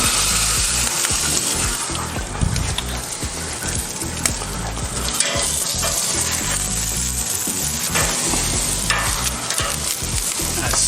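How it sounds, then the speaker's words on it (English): Picanha steak laid fat side down on a hot grill grate, giving a loud, dense, continuous sizzle and crackle that stays steady and close throughout. "I'm gonna put the picanha on its fat side down just for a minute."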